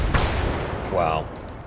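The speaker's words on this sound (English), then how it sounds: "That, whatever that cannon is amazing." Heavy cannon fire from a mech in the Brigador video game, a sharp blast at the start followed by a rumbling, ringing burst under a busy battle din, with someone talking over it.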